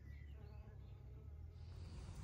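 Steady, close buzzing of bees around foxglove flowers hums continuously, with no voices.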